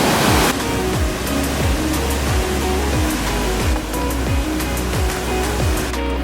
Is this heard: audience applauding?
no